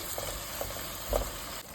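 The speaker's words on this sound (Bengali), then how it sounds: "সামান্য একটু পানি দিয়ে বেশ ভালো করে এটাকে আমি এখন কষিয়ে নিব" Spiced masala paste for a chicken korma sautéing in a pan with a splash of water, a low steady sizzle with a few soft stirring scrapes over about two seconds.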